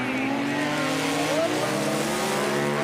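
A highly modified Polaris-style STOL plane with a big-turbo Yamaha Sidewinder 998 engine launching in a drag race, a loud sustained engine roar with rising whine as it pulls away, steady and dense throughout.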